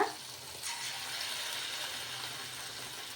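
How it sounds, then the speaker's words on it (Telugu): Poha bondas fry in hot oil on a low flame, giving a steady, close sizzling hiss that carries on evenly throughout with no talk. "ఇప్పుడు ఆయిల్ బాగా వేడెక్కిన తర్వాత సింగ్లో పెట్టేసుకొని మనం బోండాలు అయితే వేసేసుకుందాము"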